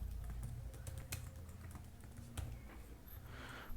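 Rapid keystrokes on a computer keyboard while HTML code is written, a steady close patter of clicks with occasional louder key hits, no voice.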